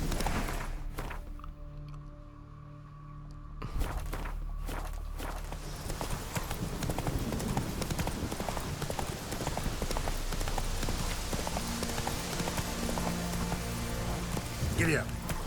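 Horse hooves from the video game The Witcher 3 in a boggy area, a steady fast clip-clop of galloping that runs throughout, loud and close, with some game ambience behind.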